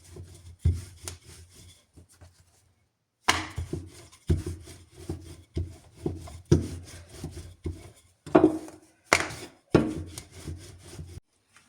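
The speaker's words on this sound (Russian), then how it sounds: "Теперь раскатываю тесто." A wooden rolling pin rubs and thumps across dough on a board in repeated rough back-and-forth strokes, close and fairly loud, with a quiet pause near the start and no talking.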